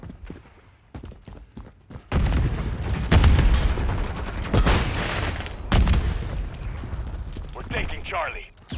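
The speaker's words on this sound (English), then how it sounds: "Throw a grenade!" Gunfire and grenade blasts in the video game Modern Warfare 3: sparse distant shots at first, then a heavy sustained barrage of booms and rapid fire, with voices calling out over the battle.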